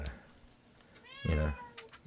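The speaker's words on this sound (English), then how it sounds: "oh, you guys hear my cat? I guess my cat wants some treats, but Velcro is going to have to wait" A house cat meows once, a clear, fairly close drawn-out call in a quiet room, with faint background noise before and after.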